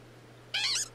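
Glameow, a cat Pokémon in Pokémon Legends Arceus, gives one short, bright meow-like cry over a low steady hum.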